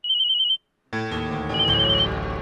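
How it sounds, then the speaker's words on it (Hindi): A telephone rings in a Hindi comedy scene: a short high electronic trill for about half a second, a brief gap, then a louder burst of ringtone music with a full chord. Close and alone, with no talk. "किसका फोन आ गया?"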